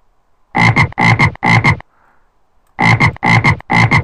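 A cartoonish frog croak sound effect from a typing sound app plays in two bursts of three loud, close, rhythmic croaks, separated by a short pause, with nothing else heard.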